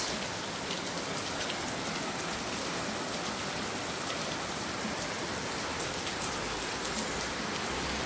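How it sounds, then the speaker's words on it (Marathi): Heavy monsoon rain in Karjat pours down in a dense, unbroken hiss for the whole stretch, steady and enveloping, with no voices. "चला मी आज आहे ना तुम्हाला कर्जतचा पाऊस दाखवते।"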